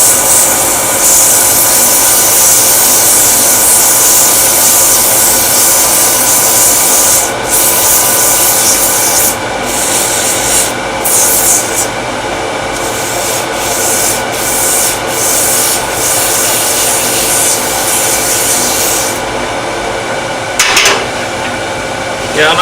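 Steady sanding of a wooden round skew chisel handle with 120 grit sandpaper, a loud continuous close rasping rub that runs throughout with brief pauses and shifts in stroke.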